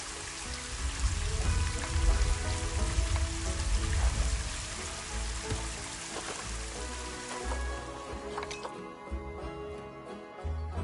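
Rain pouring steadily in the Planet Zoo console video game, a dense continuous wash of falling water that eases and thins toward the end, with no voices.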